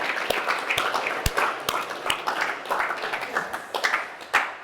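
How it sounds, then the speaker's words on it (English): Sparse applause at a company all-team meeting, a few scattered claps with uneven rhythm, fairly close and moderately loud. "Round of applause."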